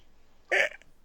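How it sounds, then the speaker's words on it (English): One short, abrupt burp-like vocal sound, close and fairly loud, lasting a fraction of a second against a quiet room during a casual podcast conversation. "Burp."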